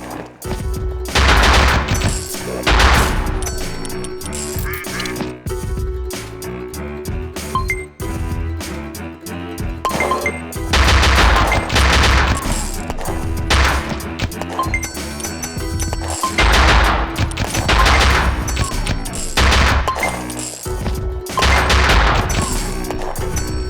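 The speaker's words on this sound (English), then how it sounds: "He now has a rifle, which means his bullets are bigger now, and they're faster too." Rifle gunfire in the video game Luckslinger, rapid repeated shots in bursts over a constant music bed, loud and continuous with brief pauses and metallic dings mixed in.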